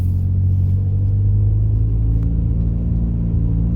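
A car pulling away gently in economy-oriented standard drive with the AC running, heard from inside as a loud, steady low engine rumble with a slight rise and no talk.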